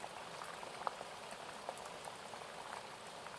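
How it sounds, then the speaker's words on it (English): Gentle water lapping against the underside of a boat moored at the shore of Loch Ness, heard as a soft, steady watery wash with small scattered splashes and plips, quiet and close, with no voices. "The sounds of water lapping gently against the underside of the boat as it's moored at the shore."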